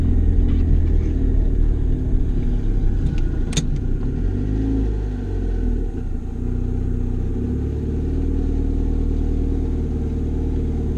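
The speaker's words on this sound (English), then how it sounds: "It does still idle at least. The engine doesn't sound hurt" A cheap turbocharged car engine idling roughly at close range, a steady low rumbling drone with slight wavering and a brief sharp click partway through, loud and continuous without speech.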